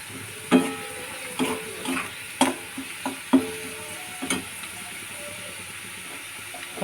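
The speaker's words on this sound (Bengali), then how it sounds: "এখনো লাল হয়নি পেঁয়াজ, হচ্ছে এখন" Onions fry in a pan with a constant sizzle, broken by several sharp spatula scrapes and taps at an uneven pace.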